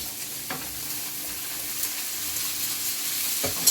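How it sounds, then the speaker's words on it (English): Fresh eggplant pieces hit a hot oiled pan over a lowered flame and sizzle steadily, with a few soft stirring knocks and scrapes close by. "And first, put your eggplant in."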